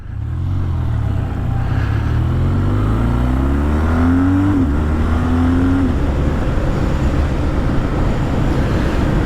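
Oil-cooled boxer engine of a 2026 BMW R12 G/S motorcycle starting up and revving: the pitch climbs in rising sweeps, peaks, drops briefly, climbs again, then settles into a steady, loud rumble.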